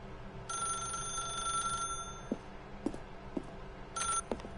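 A telephone rings in The Stanley Parable, an electronic bell trill that sounds in two bursts separated by a pause, with soft clicks and thumps in between, fairly quiet and without speech.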